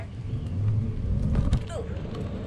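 A hoverboard's electric motor pushed to full throttle gives a steady low rumble and whine that swells over about a second and a half, then eases off, with light wind noise around it.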